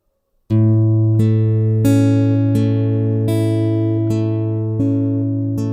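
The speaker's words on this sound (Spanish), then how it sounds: "el arpegio que estoy utilizando está muy sencillo" A slow guitar arpeggio, single notes plucked one at a time at an unhurried pace, each ringing into the next, played alone without voices.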